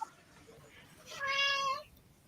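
A cat gives one clear meow lasting about half a second, rising out of quiet room tone at a moderate level, with faint murmuring in the background before it.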